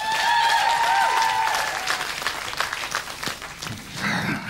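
A comedy show audience applauds loudly in a dense, continuous burst, with a brief whistle-like tone at the start and clapping fading slightly toward the end.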